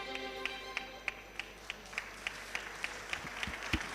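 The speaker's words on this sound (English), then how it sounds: "A big round of applause for these founders." Audience applause for startup founders at an IIT Madras entrepreneurship summit pitch event, heard as sparse, distinct claps at a moderate distance over a low room hum, fairly faint.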